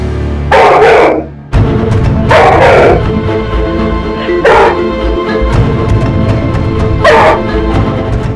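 A dog named Bruno barks in several loud, close bursts with rough yelps between them, the barks coming in uneven pulses over a constant low background hum.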